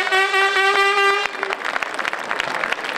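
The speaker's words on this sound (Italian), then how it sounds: "Fate sentire l'applauso di Sanremo, il pubblico di Sanremo" A sustained tonal note sounds first and cuts off, then the Sanremo Rally 2018 finish crowd breaks into crackling applause. The clapping continues as an uneven, moderately loud patter to the end.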